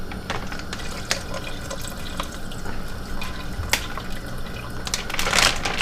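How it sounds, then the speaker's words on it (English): Rotisserie chicken juice pours and splashes into a pot with scattered drips and small clinks, swelling into a louder gush toward the end. "this rotisserie chicken's got a lot of juice down at the bottom. I'm going to go ahead and pour that right in there too"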